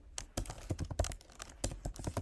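Computer keyboard typing a command, a quick close run of crisp key clicks at an uneven rhythm.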